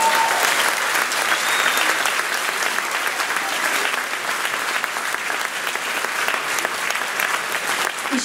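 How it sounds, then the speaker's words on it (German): An audience at the closing event of the 2018 state garden show in Burg applauds in a steady, dense patter of clapping, sustained at an even level throughout with no talk over it. "Vielen Dank, euer Applaus"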